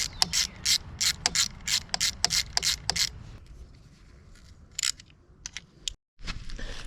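A ratchet tightens drain bolts on a 2023 Honda Grom motorcycle during an oil change, sharp close clicking in quick bursts of strokes, pausing, then a few more isolated clicks.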